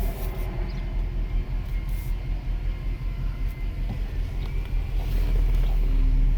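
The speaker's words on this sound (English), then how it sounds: "Let me put the car inside first." A 2005 Chrysler 300 with its check engine light on is driven indoors, giving a steady low engine rumble and road hum that swells slightly toward the end, with no talking.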